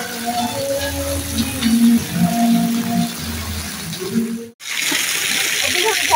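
The Gaumukh water stream at Nilkanth Dham temple pours in a steady rushing gush; voices talk over it at first, then the water is heard alone, loud and close.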